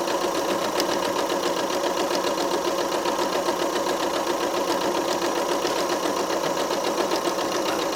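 A sewing machine stitches a pocket seam with a steady, rapid mechanical whir that runs without pause throughout, near and even in level, with no talk.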